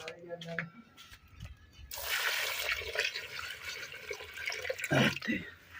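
After a quiet moment, water pours into soil in a steady splashing stream for about three seconds, then trickles off.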